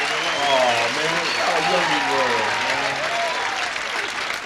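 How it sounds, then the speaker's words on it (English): A comedy club audience gives comedian Louie Anderson a big, loud round of applause at Dangerfield's in 1984, a continuous wash of clapping with a voice talking over it. "Give him a big round of applause."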